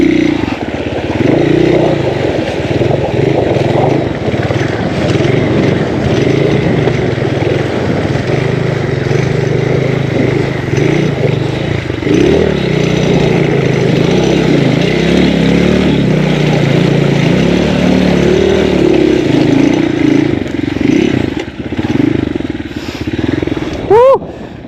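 A tall motorcycle rumbles steadily through a shallow river crossing on a rural bypass road, its engine loud and close the whole way through. A short high tone sounds near the end, and there is no talk over it.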